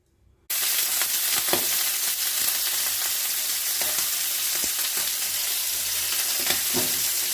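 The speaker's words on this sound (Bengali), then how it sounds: "ইলিশ মাছ ভাজা তো, এই জন্য আস্তে আস্তে করে লো করে ঢেকে ঢেকে না রান্না করলে না ইলিশ মাছটা ভিতরে কাঁচা থেকে যাবে" Salted, turmeric-rubbed hilsa fish fries in mustard oil in a kadai over a gas flame. A loud, steady, close sizzle bursts in after a short silence and hisses without letup, with occasional pops.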